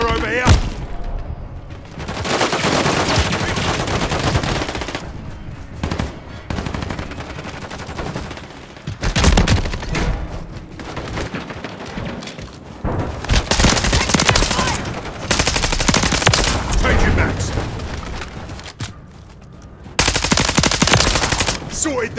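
Rapid machine-gun bursts from a Call of Duty match rattle out in loud, repeated volleys across the whole stretch, broken by brief pauses, with radio-style voices calling out over the gunfire.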